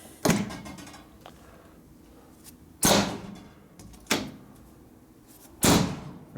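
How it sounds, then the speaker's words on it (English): A heavy sand bead blaster cabinet door in a workshop is shut four times, each a loud, sharp slam with a short ringing tail, separated by quiet gaps of one to two seconds. "this door was still closing kind of hard"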